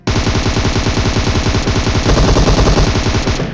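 Loud, continuous automatic gunfire in a battle royale mobile game, rapid close-up bursts of machine-gun shots filling the whole stretch without pause and without talk.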